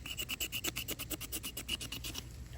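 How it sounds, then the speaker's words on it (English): Rhythmic rasping strokes of a blade scraping bark down to the wood on a peach tree branch for air layering, steady repeated scrapes close up with no talking. "You want to keep scraping downward from your initial cut."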